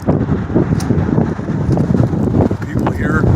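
Gusty wind buffeting the microphone outdoors, a loud continuous rumble and roar that swells and dips throughout.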